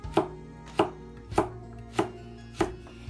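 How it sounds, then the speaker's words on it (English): A knife slicing through a carrot on a cutting board, five crisp evenly spaced chops about half a second apart, close and clear with no voices. "Those carrot we cut from the middle, then we slice it like this way."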